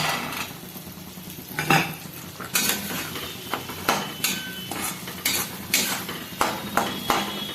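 Green peas go into a potato curry (aloo dum) and get stirred in a pan, with a run of metal spoon scrapes and clinks against the cookware, rhythmic and close, over a faint background sizzle.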